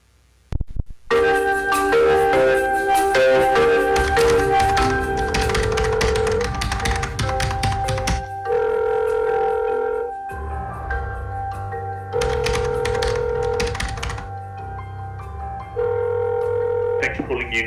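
A telephone call to UNICEF being placed, with tones and ringing on the line in repeated bursts separated by short pauses, clear and loud.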